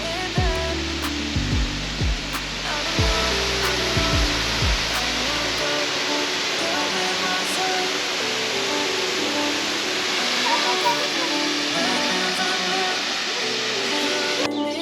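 A waterfall in Ribeira dos Caldeirões natural park on São Miguel in the Azores roars as a loud, steady rushing wash, with a low vehicle hum passing briefly near the start.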